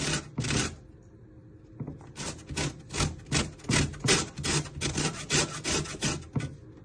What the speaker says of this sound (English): Now you want to grate your lime zest, going up and down.